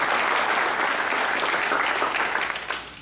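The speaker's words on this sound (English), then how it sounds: "Big round of applause for Caleb Jones." Audience applause fills a Dallas high school football player-of-the-year banquet, a steady dense clapping from a large crowd that holds loud for about three seconds before easing slightly at the end.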